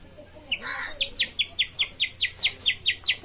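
A handheld toy whistle, played by a person, imitates sparrow chirping with a rapid run of about ten bright, evenly spaced chirps that follow a brief warbling flourish, loud and close with no talk.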